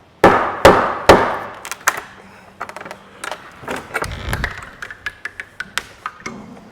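A mallet and pry bar knock the uprights off a wooden shipping pallet: a few loud, sharp strikes, then a quicker run of lighter taps, knocks and wood clatter up close, with no voices.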